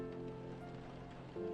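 Rain ambience from the video game Coffee Talk, a faint, steady patter of rainfall with no other sounds.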